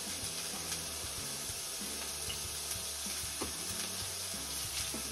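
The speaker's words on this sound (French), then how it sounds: "ces petits cubes de tomates, on va venir donc les poêler dans la même poêle que le saumon" Small diced tomatoes sizzle and fry steadily in a pan previously used for salmon, a close, continuous crackle with faint stirring and clinks.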